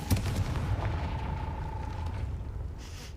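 A Confringo fire spell from the Hogwarts Legacy video game bursts with a deep, loud boom, followed by a rumbling tail and a faint tonal ring that fade over a few seconds.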